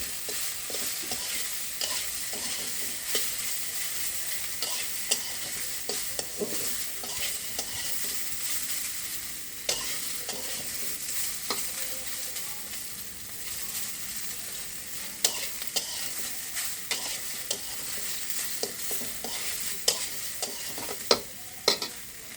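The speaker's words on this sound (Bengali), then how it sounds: "এটা 2 মিনিটের মতন আমার এখানে ভেজে নিতে হবে।" Soya chunks sizzle gently in a pan while a spatula scrapes and knocks against it in frequent, irregular stirs.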